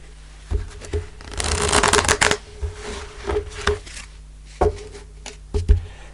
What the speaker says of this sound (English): I just cut the cards and look